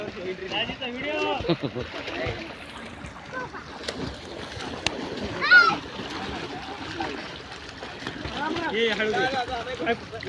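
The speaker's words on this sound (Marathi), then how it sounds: "सर्व लहान सहान किले पिले मस्तपैकी पोहत आहेत" Children swimming in a farmhouse pool or tank near Solapur, with splashing water throughout and voices of kids and adults chattering over it.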